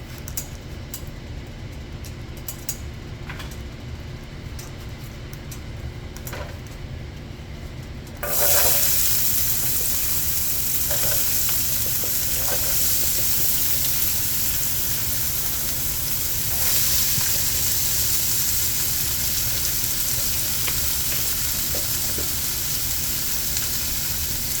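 Vegetables are dumped into a pan on a stovetop turned up to full heat. After a few quiet seconds, a sudden loud, steady sizzle and fry takes over and continues at close range.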